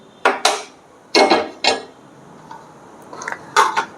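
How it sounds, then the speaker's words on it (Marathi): A metal tawa griddle is set down on a gas stove, producing a few sharp metallic clanks and knocks in quick clusters, close and clear with quiet pauses between. "तिथं मी गॅसवरती तवा ठेवते."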